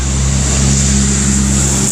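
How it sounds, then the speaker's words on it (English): A truck rumbles past a garden and yard, a loud, close, sustained low engine drone that holds steady for the whole moment without speech. "So there's a really loud truck going by right now."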